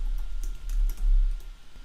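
Quick, uneven clatter of keystrokes on a computer keyboard while code is entered, light clicks in short bursts that are close and fairly soft, with no talking.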